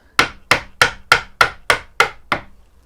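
Eight crisp, evenly spaced strikes land on a chisel set in the gauge line to chop waste from half-blind angled dovetails in a wooden board. Each blow is close and loud, with a quick decay.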